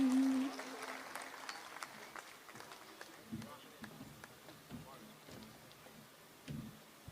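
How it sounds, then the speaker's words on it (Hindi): An audience at a Hindi kavi sammelan poetry gathering gives faint, scattered claps, a few sparse hand-claps spread out and heard distantly in a quiet hall. "तालियां जरूरी होती हैं"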